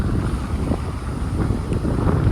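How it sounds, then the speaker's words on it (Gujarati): Cool sea breeze buffets the microphone on the beach at Porbandar, a steady low roaring rumble of wind noise filling the whole moment, with no voices. "ઠંડો ઠંડો પવન આવે છે"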